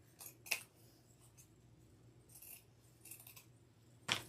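Scissors snip through ribbon while bows are being crafted, giving a few quick, crisp cuts spaced apart, close and fairly quiet, with a sharper snip at the end.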